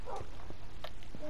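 A puppy in Minecraft gives a few short, soft yips and barks at moderate distance, scattered among faint game ambience.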